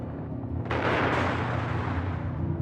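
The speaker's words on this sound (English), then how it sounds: "the armored cruiser Schleswig-Holstein opened fire on the Westerplatte with all its guns" Guns of the armored cruiser Schleswig-Holstein firing a barrage on the Westerplatte, heard as a sudden loud boom that swells into a sustained rumbling roar over a low droning background.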